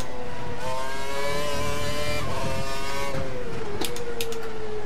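Formula racing car engine in an Xbox racing game, a loud continuous high-pitched whine that holds and then drops in pitch as the car comes through the final corner.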